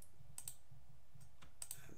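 Quiet, close computer keyboard clicks come in two pairs of crisp taps during 3D motion-tracking work, spaced over about two seconds against a soft low hum, with no talking.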